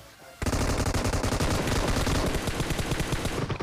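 Rapid automatic gunfire from a battle royale video game erupts suddenly after a brief quiet moment and continues in a dense, steady burst for about three seconds.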